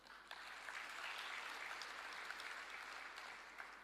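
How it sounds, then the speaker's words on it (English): An audience at the Thabo Mbeki Africa Day Lecture in Dar es Salaam applauds a girls' secondary school, a soft, even wash of clapping heard from a distance, swelling slightly and then easing. "request that we give Zanaki Girls Secondary School a round of applause"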